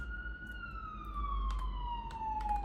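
A police car siren passes by outside in New York City, one long, slowly falling wail with a steady traffic rumble underneath and a few faint clicks.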